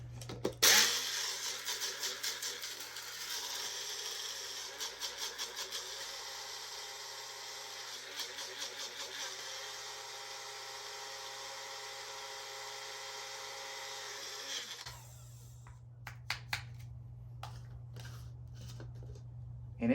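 A Magic Bullet tiny blender grinds eggshells into powder with a steady high whirring buzz, loud and close for about fifteen seconds before it cuts off, followed by rattling and clicking of the cup.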